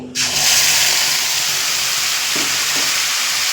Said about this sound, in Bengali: ফোড়নটা একটু ভাজা হতে দেব